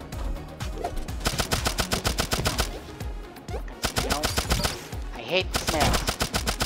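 Rapid bursts of gunfire in Turnip Boy Robs A Bank, loud and close machine-gun-like volleys with brief pauses between runs, while someone talks over the shooting.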